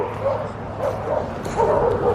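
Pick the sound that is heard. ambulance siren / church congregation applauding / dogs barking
dogs barking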